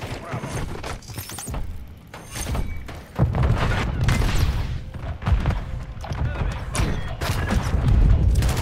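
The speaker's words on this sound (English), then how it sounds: "I'm gonna throw a grenade there, Jim" A video game grenade goes off amid a busy firefight, with heavy booms and thuds mixed with scattered gunfire and clattering debris, loud and dense throughout.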